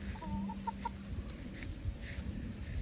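Four-month-old chickens of game breeds on a small farm in Silang, Cavite, clucking softly and intermittently at close range over a steady outdoor hum, with no talking.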